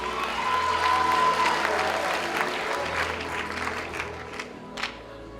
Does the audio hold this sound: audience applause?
yes